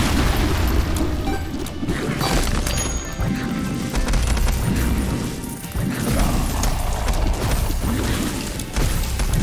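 Bombs going off in the video game The Binding of Isaac: Repentance, a dense, continuous barrage of loud booms and crashes layered with game music, no talking over it.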